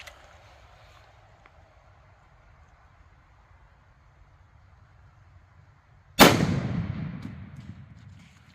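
A single loud, sharp .500 Bushwhacker rifle shot with a 20-inch barrel, firing a 275 grain Barnes XPB bullet, cracks after several seconds of quiet outdoor ambience and then rings out in a decaying boom.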